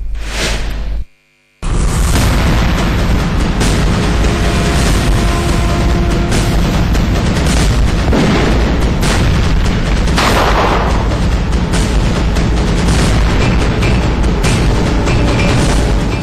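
Heavy cross-border shelling and gunfire along the Line of Control, a dense, loud barrage of booms and bursts running almost continuously, broken only by a brief silent gap near the start.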